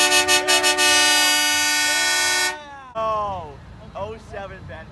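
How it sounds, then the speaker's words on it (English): Loud truck horn blasting close by at a street protest in Ottawa, a few quick toots, then a long sustained honk that cuts off, followed by a fainter horn and people shouting. "Want you to honk your horn, dude."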